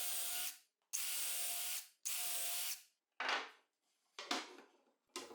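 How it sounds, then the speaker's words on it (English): A drill whirs in several short bursts with pauses between, drilling screw holes in a drawer bottom, each run buzzing loudly before stopping, the later ones briefer and choppier. "I drill the position of the screws in one of the bottoms"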